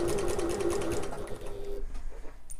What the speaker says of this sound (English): So sewing along the top there.